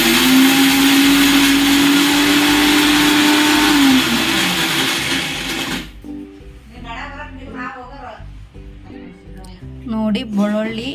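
An electric mixer grinds garlic, cumin, chillies, fenugreek, tamarind and jaggery for a tamarind pickle, making a loud, steady motor whine that winds down after about six seconds, and speech follows.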